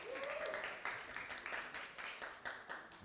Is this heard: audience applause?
yes